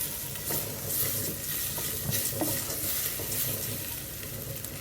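A tomato rice mixture is stirred in a pot in a continuous, close scraping and sizzling rush with soft clatters, and no one talks.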